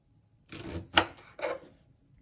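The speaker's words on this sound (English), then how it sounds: "we're going to start chopping." Three quick knife strokes slice through crisp leek against a cutting board, each a short rasping chop, close and fairly quiet.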